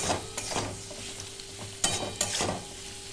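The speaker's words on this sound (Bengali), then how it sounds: "আমি আঁচটা কমিয়ে দিয়েছি, আস্তে আস্তে করে ভাজছি, যাতে এই তেলের মধ্যে আলুটা সেদ্ধ সেদ্ধ হয়ে যায়" Potatoes frying slowly in oil over low heat, a soft steady sizzle broken by a few sharp scraping stirs of a spatula.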